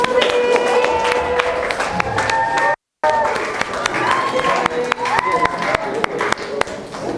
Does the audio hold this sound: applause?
yes